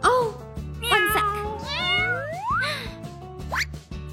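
A cat meows repeatedly in a cartoon scene, several rising and falling cries in quick succession, loud and close over a looping background music bed, with no talking.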